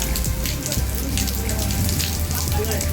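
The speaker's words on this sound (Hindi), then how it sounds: "बहुत ज़ोर से बारिश स्टार्ट हो गई है" Heavy rain pours down in a dense, continuous hiss, heard from inside the Pandavleni caves in Nashik, with water splashing and dripping on surfaces nearby.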